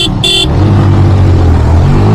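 Yamaha R15 sport motorcycles at full throttle in a street drag race, a loud, close engine roar rising steadily, with a couple of short horn-like toots at the very start.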